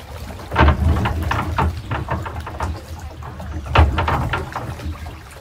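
A zoo ride boat rumbles and knocks over rollers, with irregular thumps and a low continuous rumble, fairly close.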